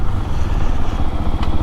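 A Fantic Caballero 500 motorcycle rides along with a steady, loud engine drone and road rumble close up, a continuous throbbing exhaust note with no talk over it.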